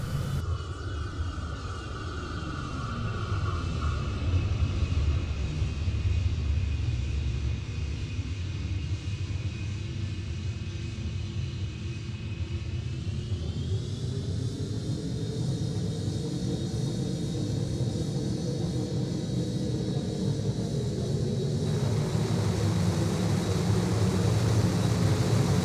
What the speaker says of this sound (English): When I hit the brakes, you can hear the wheels sliding and squealing, and it also has reverse thrusters.